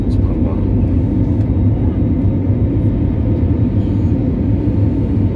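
Steady, loud broadband roar of an airplane in flight on an SAS Scandinavian Airlines flight to Munich, heard from inside the cabin as a constant drone while someone talks over it.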